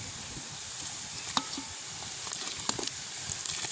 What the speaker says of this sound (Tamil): இப்போ பாருங்கள் பால் அப்படி பொங்கி கொண்டு வருதுண்டு